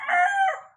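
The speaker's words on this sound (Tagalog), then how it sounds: "Pasensya lang, damo manok diri." A single rooster crows once, close and loud, the call rising and then trailing off.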